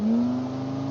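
Car engine droning at a steady pitch while driving over speed bumps in the video game Automation, a brief continuous whir with no audible thumps.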